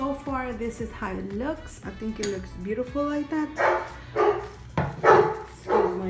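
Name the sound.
dog barking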